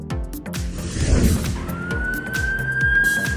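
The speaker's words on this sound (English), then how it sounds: "Police car." A police car siren sounds as a steady rising wail over a dense, rumbling traffic background, moderately loud and without talk.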